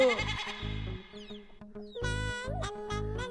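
A goat bleats repeatedly in short, wavering cries, close and clear, in several bursts separated by brief pauses, with no talking.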